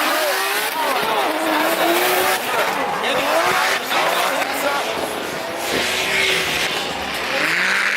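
Drift cars at a Formula Drift event in Texas let out long, wavering tire squeals over roaring engines, with the screeching rising and falling repeatedly close by.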